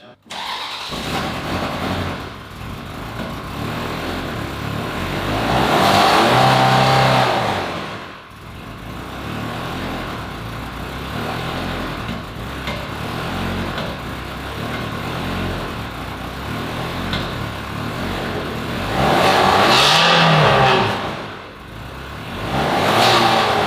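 A neglected Ferrari 360 Spider with a flashing engine management light, probably not firing on all cylinders, revs roughly in two or three loud surges over a rough idle while people talk.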